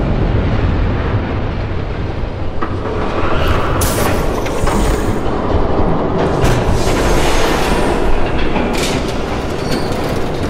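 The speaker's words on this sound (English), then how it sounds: "There's a train coming." A train passes in Batman: The Telltale Series, a loud continuous rumble and rattle of wheels on rails with occasional screeching squeals, sustained close by throughout with no voices.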